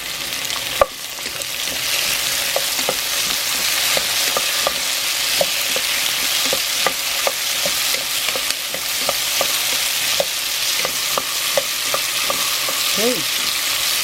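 Tomatoes frying in a pot for pork belly and ribs sinigang, a steady close sizzle with scattered crackles and pops, along with occasional clinks of a utensil stirring against the pot.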